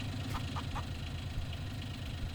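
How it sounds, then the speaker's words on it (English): Chickens cluck in short, scattered bursts in Farming Simulator 19, set against a constant low engine-like drone from the game, with no talking. "And there are our chickens."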